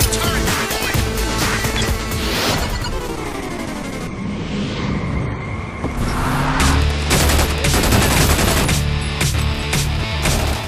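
Rapid automatic gunfire and bursts of shots from the video game Brink, loud and continuous with engine-like rumble and explosions mixed in a busy combat soundscape, no talking.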